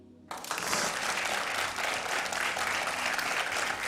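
A studio audience at the French quiz show Questions pour un Champion breaks into sustained, loud applause after a brief quiet start, the clapping dense and steady throughout.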